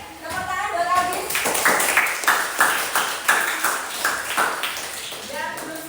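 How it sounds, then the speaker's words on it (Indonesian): A class at a vocational school (SMK N 1 Sambi) clapping for a student named Algis, with the group's claps falling into a steady rhythmic beat under a talking voice. "tepuk tangan buat Algis."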